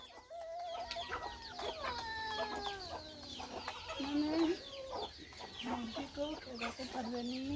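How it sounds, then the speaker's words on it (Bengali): Several chickens being fed rice cluck and squawk close by in an overlapping, busy chorus, with rising calls scattered throughout. "এই দেখ কত মুরগি"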